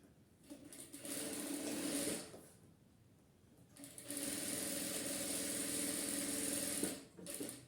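A sewing machine stitches a seam along the edge of curtain fabric in two sustained bursts of rapid whirring, separated by a short pause and ending with a brief final run, close and clear with no talking.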